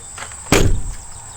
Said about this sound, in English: Listen to them doors.